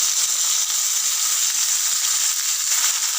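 Curry leaves hit hot oil after mustard seeds, producing a loud, steady, hissing sizzle that stays constant throughout with no talking.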